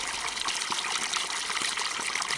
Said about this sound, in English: Yes, that is water you can hear from the beautiful fountain.